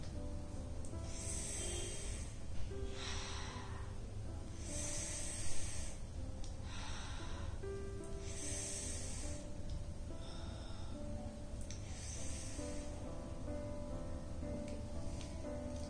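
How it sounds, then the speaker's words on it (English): A person breathes in and out through the mouth in slow, regular cycles, each breath a close, airy hiss repeating roughly every two seconds. "you breathe through your mouth, you breathe out also through your mouth"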